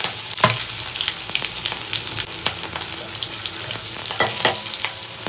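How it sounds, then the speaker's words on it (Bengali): Dry chillies, green chillies and black cumin crackle and spit in hot oil, a steady bright sizzle broken by sharp pops and spatters, close and loud with no one talking. "তেলটা গরম হয়ে গেছে এর মধ্যে দিয়ে দেব প্রথমে শুকনো লঙ্কা দিয়ে দেব কাঁচা লঙ্কা তারপরে দিয়ে দেব কালো জিরে"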